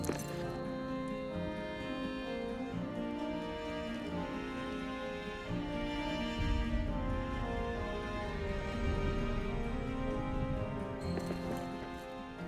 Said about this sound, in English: What you're hearing now is the hearth music.